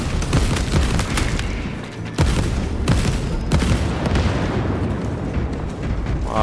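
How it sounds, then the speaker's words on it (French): Dense, loud explosions and heavy gunfire from the video game Warhammer 40,000: Space Marine 2 roar continuously, with several sharp blasts standing out of the rumbling barrage. "Voilà, explosion."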